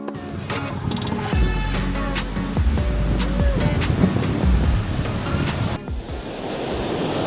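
Sea waves roll onto Playa Cozón beach in the Dominican Republic, a loud continuous surf roar mixed with wind buffeting the microphone, with little talking.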